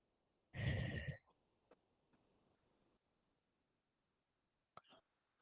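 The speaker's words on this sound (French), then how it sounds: "prenez une profonde inspiration par le nez et expirez lentement par la bouche, comme si vous souffliez dans une paille" One slow breath blown out through the mouth during a guided breathing exercise, a close, soft rush of air lasting under a second, followed by near silence and faint clicks.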